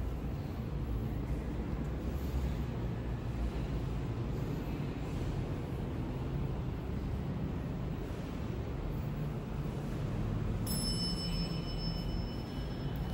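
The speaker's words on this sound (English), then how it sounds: "It's got a bell." A Schindler traction elevator bell in a 14-story Tampa parking garage gives a single bright ring near the end, ringing on over a steady low mechanical rumble that fills the whole clip.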